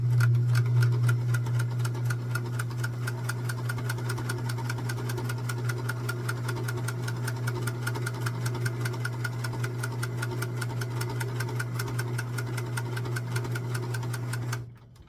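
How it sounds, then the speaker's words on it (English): A sewing machine stitches quilt blocks two at a time for a baby quilt, its steady rapid needle rhythm and motor hum running continuously for about fifteen seconds before stopping abruptly. "You're still sewing 2 blocks at a time"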